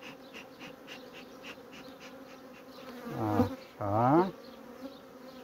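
Honeybees from a very strong colony hum steadily at an open hive during queen-cell starter work, a continuous close buzz throughout. Someone speaks briefly near the end over the bees.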